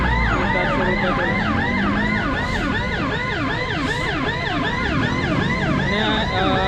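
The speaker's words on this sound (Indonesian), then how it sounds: "Ini ambulans yang jadi fokus utama ya, sudah bisa." An ambulance siren wails continuously and loudly, several overlapping rising-and-falling tones layered over road noise.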